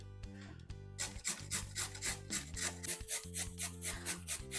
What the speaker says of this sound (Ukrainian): зараз беремо морковку і погнала на цій тертуці, що для бурака